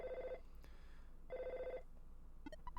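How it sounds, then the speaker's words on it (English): Telephone ringing in the SNES role-playing game EarthBound, two bursts of a warbling electronic ring separated by a pause, loud over a quiet game music bed, ending with a few short chiming blips. "Now we got a phone call from Apple Kid."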